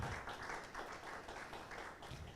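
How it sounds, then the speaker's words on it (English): An audience at a university research seminar claps: steady, dense applause from a crowded room, heard faint and distant throughout with no voices on top. "Let's give him another round of applause"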